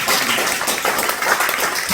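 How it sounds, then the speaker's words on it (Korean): Audience clapping at a church prayer meeting revival service, a dense, steady patter of many hands applauding for a couple of seconds. "박수 주세요."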